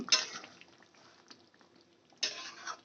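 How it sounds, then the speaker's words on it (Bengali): Fish curry gravy with katla and poppy seed bubbling in a pan on a gas flame, a faint soft simmer punctuated by two bursts of clattering utensil and pan noise, close by. "ঝোলটা পুরো ফুটে গেছে"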